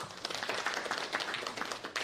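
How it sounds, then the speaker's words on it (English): An audience at a clean energy research alliance event breaks into steady, dense applause for a presenter, sustained hand clapping filling the room for a couple of seconds. "Let's clap for him again."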